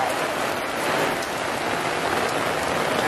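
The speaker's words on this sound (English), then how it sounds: "It's kind of dark, but look at the rain, guys." Steady rain falls on a spring day in Norway, a dense, even hiss of drops on surfaces that stays constant and fairly loud throughout, with no voices.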